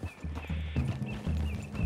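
Horses walk near a forest clearing with a steady clip-clop of hooves, the low thuds repeating evenly and fairly close, with a faint hum underneath and no talk.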